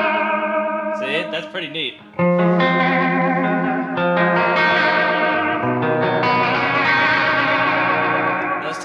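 A Clockwork Echo delay pedal set to a faster delay speed plays loud, dense guitar-like tones with repeating echoes and a chorus-like shimmer, filling the clip, with someone briefly speaking over it.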